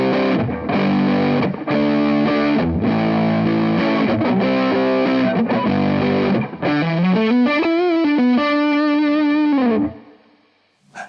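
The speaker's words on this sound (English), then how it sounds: "replay that exact clip of me playing, but instead you'll hear the Sennheiser E906s." A heavily distorted electric guitar recorded through Sennheiser E906 microphones, playing loud sustained chords and then a bending, sliding lead line before cutting off into a brief fading tail.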